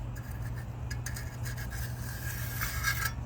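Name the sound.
smoothing a cement garden stone by rubbing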